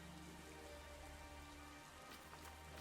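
Steady rainfall ambience in the video game Pokémon Sword and Shield, a dense continuous hiss of drops with a low background hum, even and unbroken with no voices.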